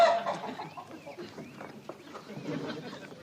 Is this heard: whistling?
no